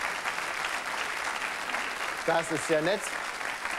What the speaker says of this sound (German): Ein Applaus erleichtert ihr das ganz sicherlich.